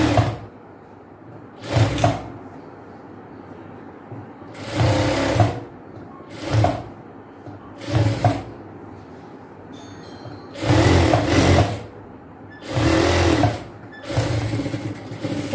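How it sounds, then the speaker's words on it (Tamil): A sewing machine stitching palazzo pant pieces in a tailoring class runs in repeated short bursts of loud whirring, each a second or two long, separated by quiet pauses. "ஸோ அதுலேயும் அப்படியே தையல் போட்டுக்கலாம்."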